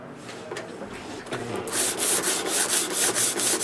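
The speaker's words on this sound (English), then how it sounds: "I'm sanding from one end of the board to the other" Steady back-and-forth sanding of a wooden board with a sanding block, end to end, quieter strokes at first, then loud rhythmic rasping passes repeating about every half second.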